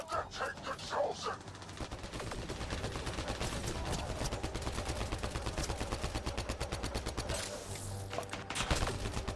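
Rapid automatic rifle fire in a squad-based tactics video game, a long steady stream of evenly spaced shots with a voice briefly speaking over the start and a final few louder bursts.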